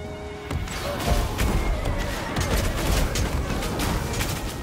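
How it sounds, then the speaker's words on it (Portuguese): Rapid rolling volleys of musket fire crackle through a battle in the strategy game Total War: Three Kingdoms, many overlapping sharp shots repeating steadily at close range. "Nossa senhora, quanto tiro,"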